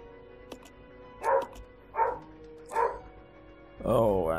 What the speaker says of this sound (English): those dogs aren't gonna stop barking as well, which is gonna be really, really annoying